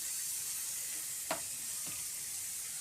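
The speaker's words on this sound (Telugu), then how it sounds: "చూడండి ఇట్లా సన్నగా కట్ చేసిన టమాటాలు వేసుకోవాలి." Thinly chopped tomatoes tipped into a hot pan give a steady, fairly quiet sizzle of frying, with a short clatter as they land.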